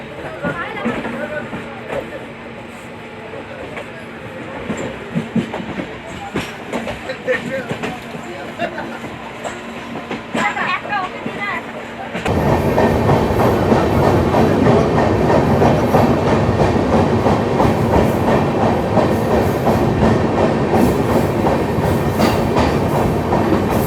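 A Howrah to Puri festival special passenger train runs on rails in India, a steady loud rumble and rattle of wheels that swells halfway through, with talk and background chatter earlier.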